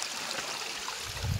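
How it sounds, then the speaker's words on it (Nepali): Spring water from a village drinking-water source trickles and gurgles in a steady, close-up stream, with no voices present. "हामीहरूले पानी खाने मूल चाहिँ यहाँ रहेको छ है गाइस"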